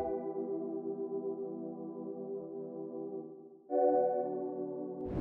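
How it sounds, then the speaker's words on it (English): Sustained synth pad chords, soft and smooth, holding one chord for several seconds before shifting to another, with no voices. "After the lead, I added a pad."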